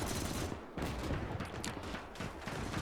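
Gunfire in the WWII strategy game Gates of Hell, with Finnish troops flanking using submachine guns and rifles: dense, continuous shots and bursts blending into a steady loud clatter, mostly distant and off to the right.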